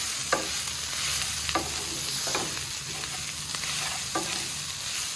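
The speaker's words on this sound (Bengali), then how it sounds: "এবারে এর মধ্যে দিয়ে দেবো একে একে সেই ভেজে রাখা আলুগুলো আর শাকগুলো। সব কিছু একসাথে মিশিয়ে নেব।" Fried potatoes and chickpea greens tossed together in a pan, a low sizzle under a handful of distinct spatula scrapes spaced about a second apart, close and moderately loud.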